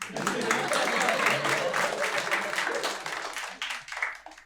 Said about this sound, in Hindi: तालियां बजती है वैसे इस बात